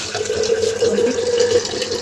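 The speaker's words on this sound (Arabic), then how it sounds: "حط فيه نص ميه" Tap water runs into a glass jar, a steady close splashing stream with a rising filling tone over two seconds.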